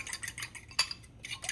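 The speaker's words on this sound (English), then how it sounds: "Now I've got 2 eggs, and I'm gonna whisk these little eggs" Two eggs being whisked in a bowl, quick rhythmic clicking strokes of the whisk against the side, close and moderately loud, with one sharper tap midway.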